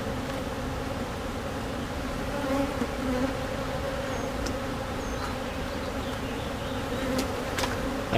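Honeybees swarm and buzz around an open hive in a sunny farm apiary, a steady dense drone of many wings close by with no voices.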